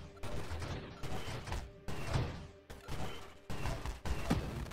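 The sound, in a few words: volley weapon shots firing in video game Nova Drift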